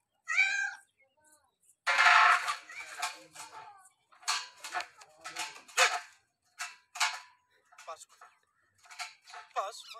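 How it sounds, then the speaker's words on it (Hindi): A cat comes out from under something and meows a few times in short bursts, close by, while a person talks excitedly over and between the calls. "ये तो बिल्ली निकला इसके नीचे से"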